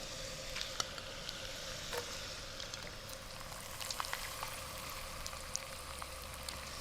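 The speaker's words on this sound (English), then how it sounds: "The squid goes in just as it is" A whole squid going into a hot pan, sizzling with a soft, steady crackle and scattered small pops, faint and continuous.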